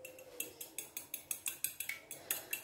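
A utensil whisks two eggs in a bowl for French toast. It clinks sharply against the side in a quick, steady rhythm of about a dozen strokes, close and clear with no talking.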